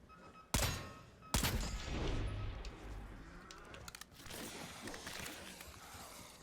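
Gunfire in Black Ops 6 Zombies: two sharp, loud shots ring out early, followed by scattered, quieter bursts and clatter in the background.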